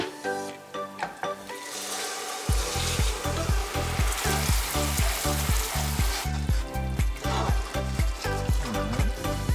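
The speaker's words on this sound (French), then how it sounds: "Et maintenant on va verser notre crème liquide." Liquid cream poured into hot salted butter caramel, a bubbling sizzle with rhythmic stirring and pan knocks starting a couple of seconds in, close and continuous without talk.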